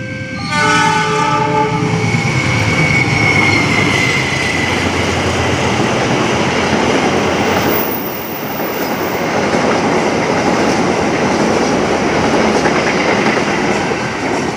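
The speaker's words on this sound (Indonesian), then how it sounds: "Baru sampai langsung ada kereta api Lodaya nih." The Lodaya passenger train sounds its horn, then roars past a station at speed with a loud, continuous rush of wheels and clatter that fills the whole stretch.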